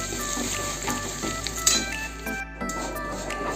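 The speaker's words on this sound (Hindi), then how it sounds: "फिर आपको चलाते रहना है कंटिन्यू, ताकि ये गुड़ लग ना जाए।" Jaggery melting in ghee crackles and sizzles in a pan while being stirred continuously, a steady frying hiss with scraping strokes and soft squishy sounds, with a brief dip partway through.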